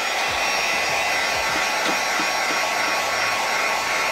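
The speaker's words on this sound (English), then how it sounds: "then you can use a heat gun to speed up the drying process." A heat gun blows hot air to dry paint on a homemade Ikea lamp shaped like a Super Mario mushroom, giving a steady, loud, close whoosh of fan and air that runs without a break the whole time, with no talking.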